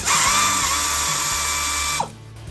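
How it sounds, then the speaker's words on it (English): An air ratchet backing a bolt with a welded nut out of a 5.3 LS engine's exhaust on a 2003 Chevy Tahoe, a loud, steady high-pitched whirring buzz for two seconds that cuts off abruptly. "backed it right out with the air ratchet there"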